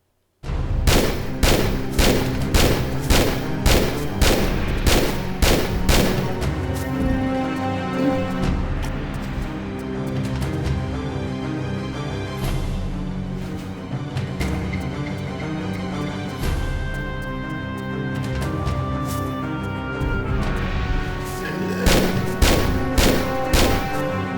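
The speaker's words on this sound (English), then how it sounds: "Those are homing missiles." Rapid bursts of homing missiles firing and exploding in Tomb Raider Remastered, loud repeated sharp impacts in quick rhythmic volleys, pausing mid-stretch under rumbling game sound before another dense barrage.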